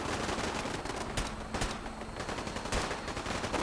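Gunfire aimed at a vertibird in the video game Fallout 4. Dense, continuous rattling shots crackle nonstop at a distance, with a few heavier reports standing out in the steady barrage.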